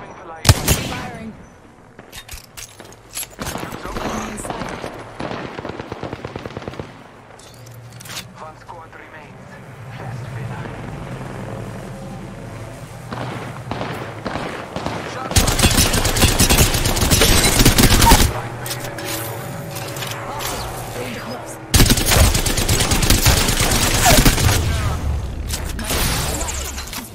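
Rapid bursts of gunfire in the Apex Legends video game, loud and repeated. Dense volleys come in two heavy stretches against background game sounds, and a voice talks in between.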